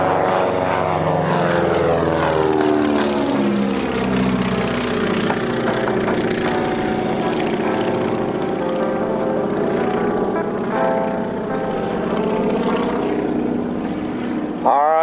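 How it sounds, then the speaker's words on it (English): Propeller aircraft first produced in 1937, flying at the National Warplane Museum airshow, a loud, sustained droning engine roar with a shifting pitch as it passes nearby. "this is one of the world's longest produced aircraft"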